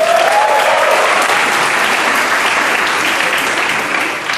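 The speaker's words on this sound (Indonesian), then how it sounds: "Tepuk tangan dong." Loud, dense applause from a stand-up comedy audience at a tour-opening show in Bekasi, continuous clapping that tapers slightly at the end, with a brief whoop near the start.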